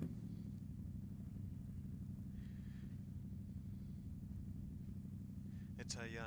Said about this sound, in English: George McFarlane out on the track now in their GT3R Porsche.